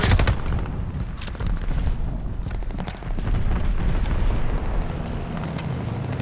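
An auto shotgun in Call of Duty: Vanguard firing amid loud, continuous battlefield gunfire and booming explosions, with dense overlapping shots throughout.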